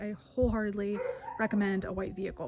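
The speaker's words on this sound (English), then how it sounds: "you can probably hear my husky howling in the background" A husky howls and whines in the background, rising and wavering cries running under a person talking nearby.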